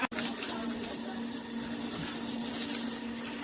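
Cold, clear water runs from a tap in a continuous, steady gushing stream after a brief knock at the start, moderately close and with no talk over it.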